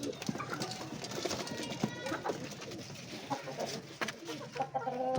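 Chicks in a cage chirp and peep continuously, a busy overlapping flock heard close up, with a voice speaking over the cheeping.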